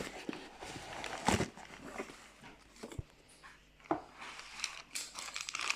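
Plastic packaging crinkles and tears as a piston for an Opel 2.0 16-valve engine (X20XEV, C20XEV series) is unwrapped, with a few sharp handling knocks among soft rustling, close and fairly quiet.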